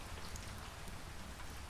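Steady rain falls through a rainy night in a fireside ambient soundscape: a dense, even hiss of drops pattering on surfaces, constant and unbroken, with no voices.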